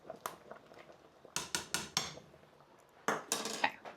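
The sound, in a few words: stirring boiling soup in a pot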